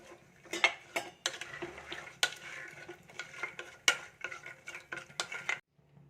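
Thin coconut slices stirred into a pot of chickpea curry, a run of sharp spoon-against-pot scrapes and clinks in an irregular rhythm, close and fairly loud, with a soft sizzle beneath and no talking.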